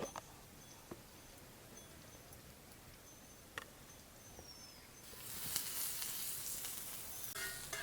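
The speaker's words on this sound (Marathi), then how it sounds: "आता कांदा भुजून घेतो" Chopped onion frying in a pan for a home-style chickpea curry: a faint hiss at first, then a steady, fuller sizzle that swells up close in the second half.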